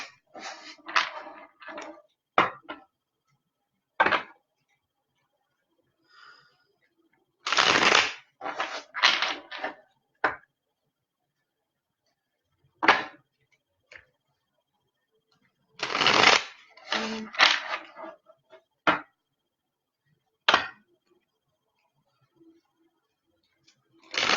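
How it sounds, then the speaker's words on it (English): Tarot cards being shuffled by hand in bursts of crisp riffling and flapping, several separate runs broken by short pauses and a few isolated taps, close and fairly quiet with no talking. "I'm going to do one more shuffle anyway."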